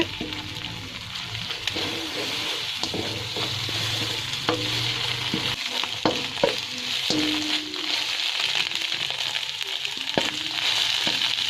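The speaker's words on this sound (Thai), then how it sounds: "พอร้อนสักพักเราก็จะตีไข่ออกนะคะ แบบนี้เลยค่ะ ไม่ต้องทำให้เละมากนะคะ" Beaten egg frying in a hot pan for shrimp fried rice, a loud steady sizzle broken by repeated scrapes and taps of a spatula as the egg is stirred and broken into pieces.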